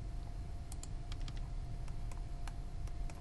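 Keys on a computer keyboard are tapped while dimensioning a drawing in AutoCAD, a scattered series of light clicks, some in quick pairs, over a steady low room hum.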